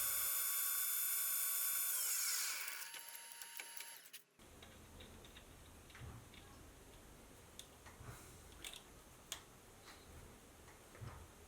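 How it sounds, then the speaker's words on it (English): An end mill cutting a keyway into a lathe cross slide leadscrew, a high whining machine tone for the first few seconds that winds down and stops, followed by faint intermittent ticks and clicks. "I can simply come in from the front and machine the keyway to size"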